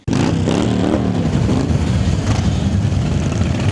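Classic cars and heavy motorbikes gathered at an enthusiasts' meet rumble and rev, a dense, loud, continuous engine drone close by.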